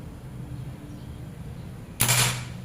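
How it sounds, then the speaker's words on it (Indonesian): One sharp shot from a Predator Ataman Crane PCP air rifle, 2700 psi with a 30 cm seamless barrel, rings out partway through, a loud snappy report with a short decaying tail over low background hum. "Tembakan kedua."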